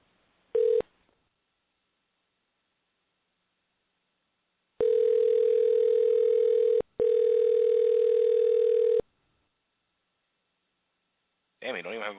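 A telephone call rings out with no answer and no voicemail: a short tone, then two long steady rings separated by a brief gap, loud and alone, ending in a warbling tone.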